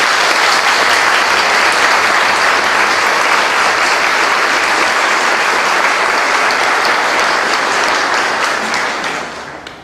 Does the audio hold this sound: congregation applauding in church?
yes